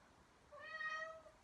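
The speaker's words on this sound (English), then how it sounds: "my cat's meowing." A house cat gives a single drawn-out meow lasting under a second, clear and fairly close against a quiet room.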